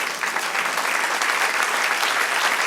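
A church congregation breaks into applause during a worship service, a thick, even wash of many hands clapping at once, loud and sustained with no pause.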